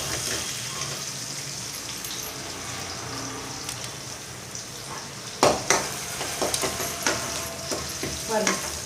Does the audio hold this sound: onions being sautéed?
yes